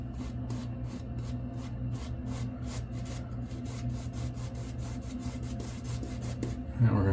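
Shaving soap paste is worked with a brush in a steady rhythmic rasping scrub of quick repeated strokes, close and fairly quiet, with a brief knock at the end.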